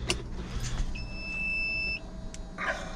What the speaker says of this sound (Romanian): Lăsăm un pic să amorseze pompa.